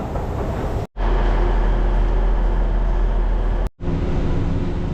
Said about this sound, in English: So I'm currently on the train.